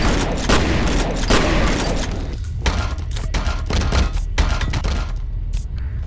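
Two shotguns blasting in a video game, with heavy booming shots and thuds fired in rapid succession, loud and close, followed by a brief quieter gap and a few more scattered reports.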